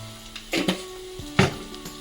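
Onions frying in a pan as ginger garlic paste goes in for an omelette curry, with a soft sizzle broken by two louder scraping, stirring clatters close by, no talk.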